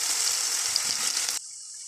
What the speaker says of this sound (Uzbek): Tovamizga birinchi bo'lib piyozimizni solib, yaxshilab piyozimizni qovurib olamiz.